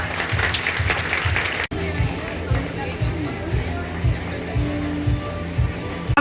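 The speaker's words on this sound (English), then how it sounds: "Please clap for her." A school audience on exam result day claps for a student in a short burst that cuts off abruptly, giving way to murmuring voices and soft rhythmic thumps.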